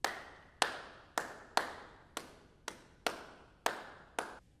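Nine sharp hand claps in a steady, even church rhythm, a one-measure repeating pattern, close and clear with nothing else heard.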